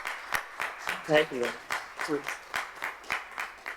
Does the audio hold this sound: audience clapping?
yes